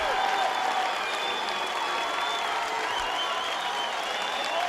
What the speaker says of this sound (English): the crowd in appreciation